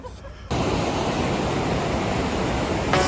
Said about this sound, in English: This is the waterfall that they have smack dab in the center of town.